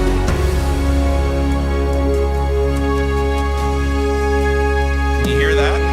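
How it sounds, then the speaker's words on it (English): Dark, ominous synthesizer pad opening a choir song arrangement, holding a deep, steady low drone beneath sustained sombre chords that swell and shift slowly and continuously. "It's just got this kind of ominous synth"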